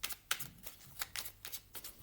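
Tarot cards are riffled and shuffled by hand in a quiet room: a series of soft, rapid papery bursts in an uneven rhythm, close and low in level.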